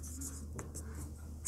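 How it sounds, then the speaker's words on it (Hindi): Marker or chalk strokes write a word on a classroom board, giving short scratchy squeaks close by with no talking. "चलो एसोसिएशन लिखते हैं यहाँ पर"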